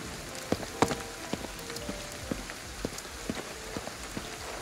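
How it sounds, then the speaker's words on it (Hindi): Heavy rain pours steadily in the Ghostwire Tokyo game world, a dense hiss of drops with scattered sharper splashes and pattering impacts throughout, no voices. "बारिश हो रही है गाइस यहाँ पे बहुत तगड़ी"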